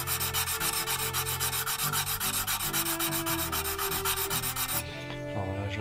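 A wet 320-grit Gesswein stone is rubbed back and forth over a carbon steel blade, making a close, rhythmic rasping scrape in quick regular strokes that stops near the end, leaving a faint ringing tone.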